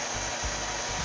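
A hair dryer blows hot air onto the head of a 1999 Britney Spears doll, a steady loud whooshing roar with a constant motor whine, close and uninterrupted.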